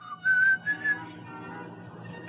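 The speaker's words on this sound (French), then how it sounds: "Tu as vraiment le plus horrible sifflet que j'ai jamais entendu." A short, shrill whistle sounds, followed by a couple of brief chirps, then a low murmur continues faintly underneath.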